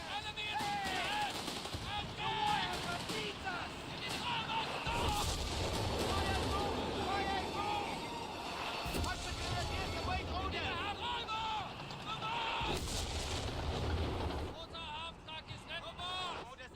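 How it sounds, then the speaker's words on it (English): Gunfire and explosive barrage from a wartime strategy video game, with dense rattling shots and booms layered under game voice callouts and battle noise, continuous and busy throughout. "Hey, look, another barrage."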